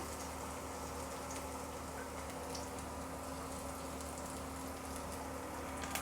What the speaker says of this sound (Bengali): রসুনটা কড়াই দিয়ে দেব। তেল গরম হয়ে গেছে